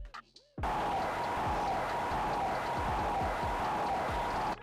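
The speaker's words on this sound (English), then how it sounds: "But round of applause to everybody." Dense, even applause from a group fills the room, loud and continuous for several seconds before cutting off abruptly, with a faint steady tone beneath.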